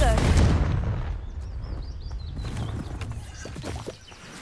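A Confringo blasting spell cast in Hogwarts Legacy bursts out loudly at the start, its rumbling blast decaying over the next seconds amid lighter magical chimes and game ambience.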